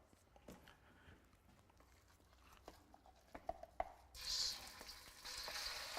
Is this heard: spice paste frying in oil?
yes